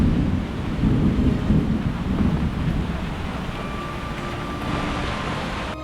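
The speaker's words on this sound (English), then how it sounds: "We needed this rain." A thunderstorm outdoors with steady rain and a deep rolling rumble of thunder, loudest early on and then easing into a continuous wash of rain and wind.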